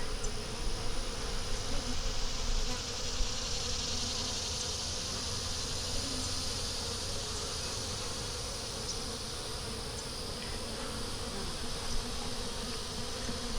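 A small honeybee swarm hums around hive frames holding brood and nectar, a dense, steady buzzing drone from many bees close by, continuous and unbroken with no voices.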